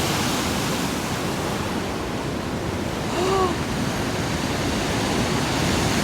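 Stormy sea surf breaking on a beach beside a pier, a steady loud roar of waves filling the whole stretch with wind noise, and a faint brief voice-like tone partway through.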